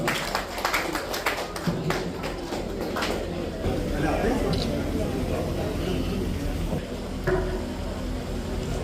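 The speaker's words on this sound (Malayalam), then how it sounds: "ഒന്ന് ഒന്ന് കൈയടിച്ചു കൊടുക്കാം" An audience applauds at a felicitation ceremony for SSLC and Plus Two exam winners, a brisk patter of claps over the first few seconds that fades beneath ongoing talk in a hall.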